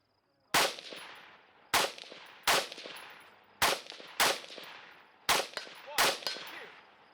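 Pistol shots fired at steel targets in a woodland shooting match, American Standard division: nine sharp, loud cracks in spaced pairs and singles, each with a ringing decay.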